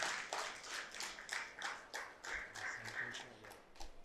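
An audience claps for a mimicry artist at a two-day music-and-meditation gathering, the individual claps scattered and fairly faint, sounding distant and uneven rather than a thick ovation.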